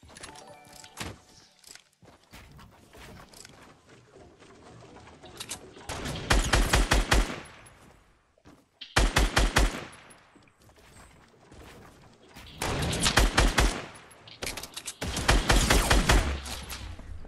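Bursts of gunfire from another player in Fortnite, several loud rapid volleys separated by quieter gaps, close and punchy against a low game background.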